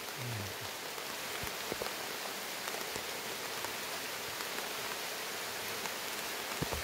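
Steady heavy rain pours down outdoors with no shelter nearby, a dense continuous hiss of drops drumming on surfaces throughout, with a few sharper drips standing out.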